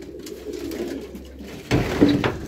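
Low pigeon cooing murmurs close by in a loft, followed by a louder burst of rustling and cooing near the end.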